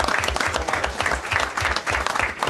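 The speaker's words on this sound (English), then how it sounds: "Let's give them another round of applause." Close, lively applause at a city council meeting for families and children, with uneven claps and a few individual hands standing out near the microphone.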